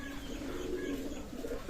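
Soft, low cooing of Pakistani Teddy pigeons drones on steadily, with a sharp knock right at the end.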